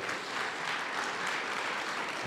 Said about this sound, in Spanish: Todavía podemos darle un aplauso al rey